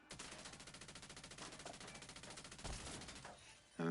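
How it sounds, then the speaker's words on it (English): Rapid gunfire in the video game Division 2, a close, steady burst of repeated shots with a fast even rhythm that runs for several seconds, then a heavier blast near the end. "Go ahead and shoot it."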